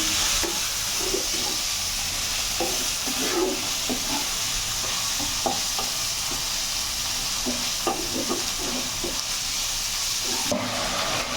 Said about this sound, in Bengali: এবারটা এই সব মশলাগুলো ভালোভাবে কষিয়ে নেব